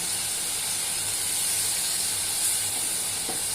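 Prawns hit a hot pan with a steady, even sizzle that hisses continuously and fairly close, with no voices over it.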